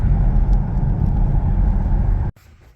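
A sixth-generation Chevrolet Camaro driving through an intersection on a U-turn, a loud, close, steady engine and road rumble that cuts off abruptly near the end, leaving quieter background.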